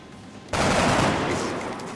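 A single loud sniper rifle shot from the XCOM video game cracks out after a quiet half second, followed by a rumbling burst of gunfire that fades gradually.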